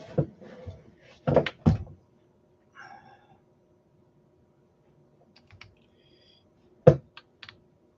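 Scattered computer keyboard keystrokes come close and crisp, in short bursts separated by long silent gaps, with a few isolated key clicks near the end.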